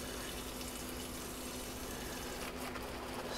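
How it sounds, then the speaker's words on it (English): Water pours steadily from a hose or watering wand onto greenhouse plants, a continuous close hiss and splash that holds at an even level with no talk. "this is how I go through and kind of water some plants that are really far away"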